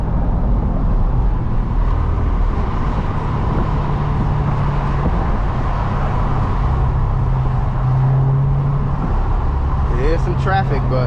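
Road noise from inside a moving Corvette C8 on a mountain road in traffic: a steady low tire-and-engine rumble runs throughout, with a brief higher tone near the end and a voice talking over it.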